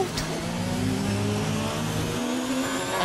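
A race car spins out in a hybrid racing league video game. A steady, loud engine drone with layered harmonic tones shifts in pitch toward the end, with a faint squeal of tires.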